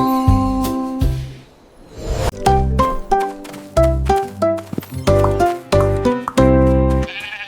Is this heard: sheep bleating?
yes